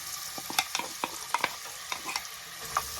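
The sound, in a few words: onions and rosemary sautéing in hot oil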